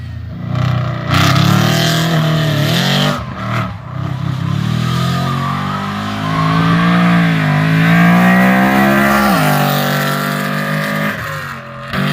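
A race car laps a road course track, its engine loud and close as it rises and falls through gears, with rising revs, brief lifts off the throttle and steady sustained pulls.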